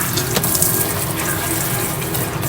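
Steady tap water gushes loudly over a tie-dye shirt being rinsed and squeezed in a sink, with a few small splashy accents over the continuous flow.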